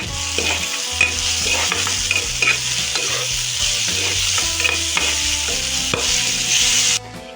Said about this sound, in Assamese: এতিয়া দি লৈছোঁ বইল কৰি লোৱা কচুখিনি গেছটো একদম মিডিয়াম কৰি পিনি লৈছোঁ